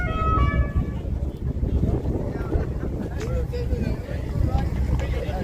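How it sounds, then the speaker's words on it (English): Horn of the Tesla drag car called the Energizer Bunny at a drag strip, a short tonal toot near the start, then wind buffeting and crowd noise with people talking. "That was his horn, y'all."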